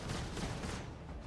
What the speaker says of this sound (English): Oh, we're being shot.